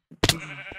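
Sheep in the Minecraft video game give a single short bleat, clear and close, followed by a brief faint tail of a second sound.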